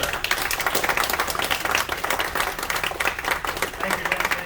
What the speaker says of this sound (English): Everyone, give a round of applause for Scott Stoolmiller